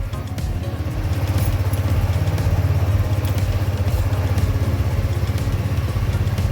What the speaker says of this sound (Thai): รถสตาร์ทติดเลยนะครับ ขับขี่ได้เลยตามปกตินะครับ